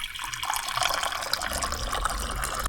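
Water pours steadily from the filtered drinking-water tap in a camper, a close, continuous splashing stream with no talking.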